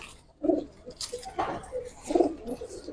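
Giribaz pigeons coo softly in a couple of short, throaty bursts, close by and fairly quiet, with a light rustle between calls.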